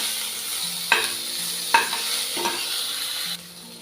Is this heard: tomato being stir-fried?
yes